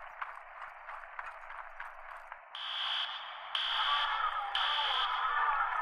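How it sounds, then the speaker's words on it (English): A fire alarm activated in the 911 Operator video game comes in as a steady electronic tone in repeated bursts about once a second, loud over ongoing game ambience. "Find the nearest fire alarm station and activate the alarm"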